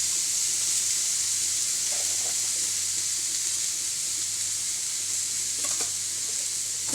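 Chopped spinach and crushed chili stirred in a frying pan, a steady loud sizzle and hiss throughout with occasional soft scrapes of the spoon, close by.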